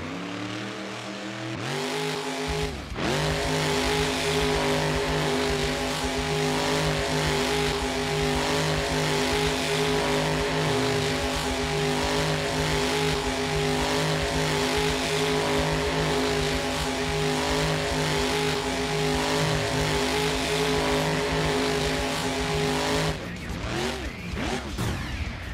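A Monster Energy monster truck doing donuts in a BeamNG.drive Monster Jam event at Oilex Arena, its engine revving hard in a sustained, steady roar for over twenty seconds, with an arena commentator talking over it.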